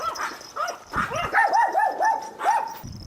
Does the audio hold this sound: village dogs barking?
yes